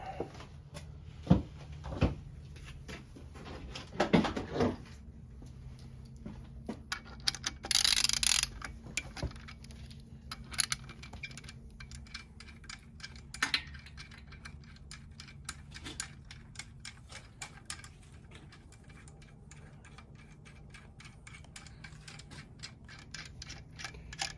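A torque wrench clicks as bolts are tightened on a Ford V10 engine being built for an F100 truck, with sparse sharp mechanical clicks and ratcheting taps, a couple of louder bursts, and a quiet workshop background.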